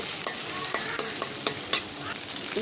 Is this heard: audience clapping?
no